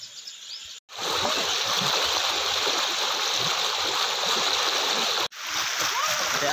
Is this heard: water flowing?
yes